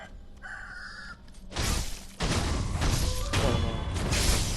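Roosters crow in the misty setting of the video game Sekiro: a short harmonic crowing call opens, followed by loud, dense crashing game noise that continues to the end.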